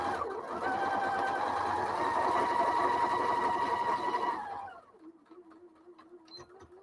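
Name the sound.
sewing machine sewing fabric pieces together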